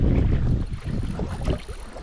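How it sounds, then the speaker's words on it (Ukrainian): Wind gusts buffet the microphone outdoors during summer mormyshka jig fishing for roach with a self-assembled spinning rod, a steady low rumble with swelling gusts and no talking. "А як вітер так дме."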